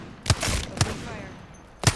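Three sharp gunshots ring out in the Apex Legends video game, spaced irregularly over a couple of seconds, each a loud close crack with a brief tail.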